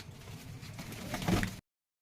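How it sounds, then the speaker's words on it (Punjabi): A soft, low coo from a pink-tailed pigeon, fairly quiet and close, ending abruptly. "ਆਪਣਾ ਗੁਲਾਬੀ ਪੂਛ ਵਾਲਾ ਵੀ ਕਬੂਤਰ ਆ ਗਿਆ"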